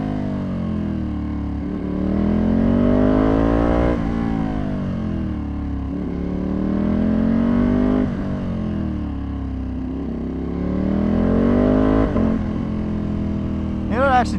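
A tuned Ducati Panigale V2 surges repeatedly on the street, its engine pitch climbing and falling in long waves as the throttle opens and closes, loud and close with wind rush. A voice speaks over it.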